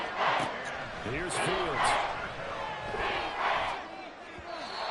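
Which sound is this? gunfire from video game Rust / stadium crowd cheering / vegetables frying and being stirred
stadium crowd cheering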